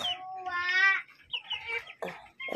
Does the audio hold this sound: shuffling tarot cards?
no